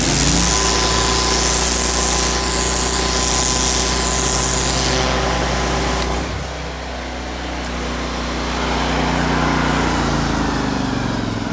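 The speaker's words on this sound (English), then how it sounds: "This is our turbo lance for extra aggressive" Pressure washer motor fitted with a turbo lance attachment for aggressive stains, a loud steady hum and spray hiss that drops briefly partway through before resuming, heard alone without talk.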